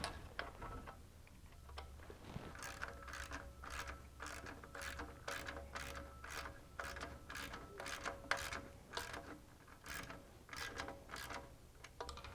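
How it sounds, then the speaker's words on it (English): Ratchet cranking in a steady series of sharp, evenly spaced clicks, tightening down the tray on a Juiced Scrambler e-bike during a controller replacement; close and fairly loud, alone without talk. "you can tighten down your tray."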